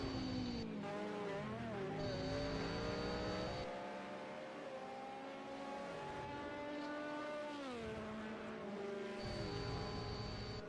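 A GT1 race car engine screams at full throttle in a racing game, climbing steadily through the gears with sharp dips at each shift and a continuous loud, close drone throughout.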